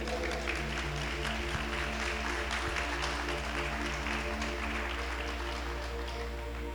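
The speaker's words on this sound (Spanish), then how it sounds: "¿Cuántos pueden darle un aplauso al Señor por esa palabra?" Scattered clapping from a church congregation applauding during a Spanish-language sermon, fairly faint and sitting beneath a steady tonal hum and background music.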